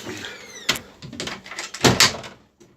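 Driver's door on an Iveco Crossway bus being worked, giving a few sharp mechanical clunks and latch bangs with rattly metallic hits, loud and close, between quieter stretches.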